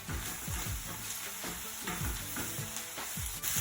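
Corned beef hash with parsley is stirred in a frying pan, a soft sizzle and fry running underneath repeated scraping strokes of the spoon, about one every half second, close and fairly quiet.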